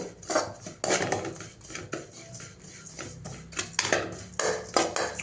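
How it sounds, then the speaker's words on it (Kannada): Dry oats roasting in a pan without oil, stirred with a utensil that scrapes and clinks against the metal in quick irregular strokes, close and fairly quiet, with no talking. "ಮೊದಲಿಗೆ ಈ ಓಟ್ಸ್ನ ಹಾಕ್ಬಿಟ್ಟು ಚೆನ್ನಾಗಿ ಹುರ್ಕೋಬೇಕು"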